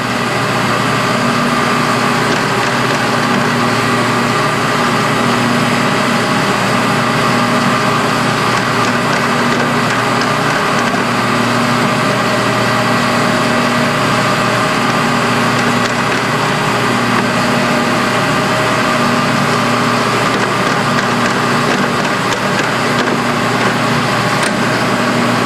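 A 1977 Cincinnati universal horizontal milling machine, model 415-16, runs steadily throughout, giving a continuous mechanical drone with a low hum and a busy, grinding upper layer that never lets up. There is no talking.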